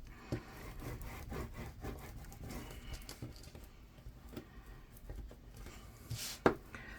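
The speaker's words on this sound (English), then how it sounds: "I'm going to give that a good burnish" Paper glued onto a craft album page is rubbed down with a burnishing tool, giving soft, repeated scraping and rubbing strokes at close range, with a brief sharper scrape near the end.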